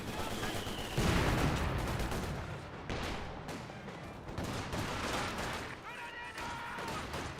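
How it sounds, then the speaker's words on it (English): A Company of Heroes 2 battle rattles with rifle and machine-gun fire in steady overlapping bursts, punctuated by heavier blasts, loud and continuous. "Conscript firing away."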